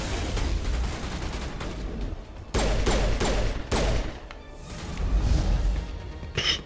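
Sniper rifle shots in Mass Effect Legendary Edition: several sharp, loud blasts ring out in sequence with a rumbling, echoing tail behind each, set against steady combat noise.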